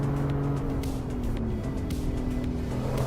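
A BMW M2 Competition engine in a driving simulator game drones steadily at a loud, close, even pitch, with slight dips and shifts in tone as the car drives on.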